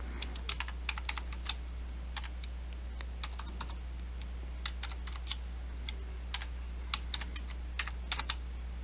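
Computer keyboard keys click in quick, uneven bursts as patient details are typed in, a close, crisp stream of keystrokes with short pauses between the bursts and a low steady hum underneath.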